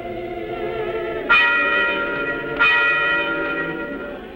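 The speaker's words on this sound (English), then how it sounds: "Ding dong, this is one chapel bell who loves to peal." Two clear strikes of a chapel bell, each a bright ringing clang with a long shimmering decay, the second following about a second after the first, loud and close with nothing else heard.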